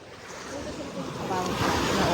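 Sea waves washing onto a shallow beach, heard as a steady broadband wash that swells louder toward the end, with wind noise on the microphone.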